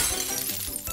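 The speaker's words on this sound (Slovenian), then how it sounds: "Prerivajo se in v zmedi se razbije šipa." A window pane shatters in a crowded school classroom during a flood, a brief loud crash of breaking glass with bright scattered fragments, heard alone.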